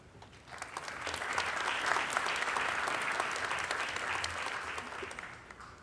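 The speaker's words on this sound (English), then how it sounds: "Can I have one more round of applause" Steady, dense applause fills a high school academic awards ceremony as the superintendent of schools is welcomed to the microphone, rising quickly after a quiet start and holding at an even level for several seconds.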